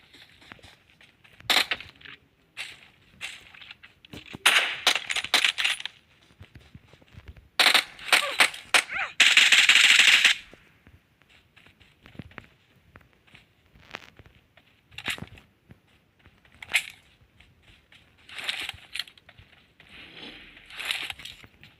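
Scattered bursts of gunfire in PUBG, some in rapid clusters, mixed with crunching footsteps and quieter clatter.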